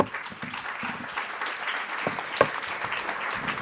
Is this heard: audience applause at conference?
yes